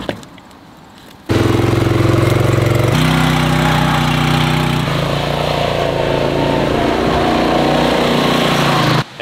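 A ROKON Trail Breaker 2WD motorbike engine starts after a quiet moment and runs steadily, a loud close droning mid-pitched engine that shifts tone slightly as it revs before cutting off at the end.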